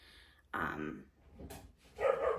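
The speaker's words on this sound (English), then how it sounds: "My cat is bothering my dogs again." Dogs indoors, bothered by a cat, let out a few sharp barks and yips in quick bursts, fairly close, with short quiet gaps between them.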